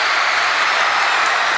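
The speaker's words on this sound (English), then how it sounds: "Look at this crowd nearly yelling early on." Crowd at a basketball game, a loud, continuous wash of cheering and clapping from the stands with no break.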